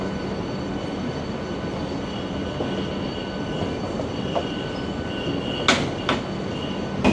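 The Howrah–Digha Tamralipta Express runs along the track with a steady low rumble and rolling noise, joined late by a couple of sharp bright squeals or clanks.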